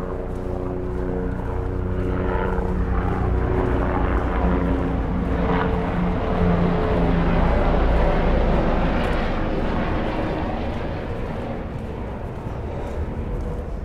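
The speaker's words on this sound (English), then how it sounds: "I guess the helicopters are operating today. I see one taking off right now." A steady, loud helicopter engine drone with rotor churning as it takes off in New York City, swelling slightly in the middle and holding constant throughout, no voices.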